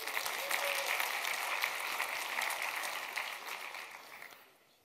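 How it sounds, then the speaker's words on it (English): An audience at a technical talk on category theory applauds steadily for a few seconds, a dense wash of clapping that fades out at the end. "Give yourselves a round of applause."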